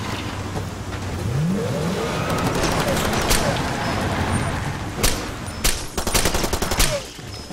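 Machine-gun fire in the video game Far Cry 2 rattles in bursts of rapid shots over a running vehicle engine, growing denser and louder toward the end while someone talks over it.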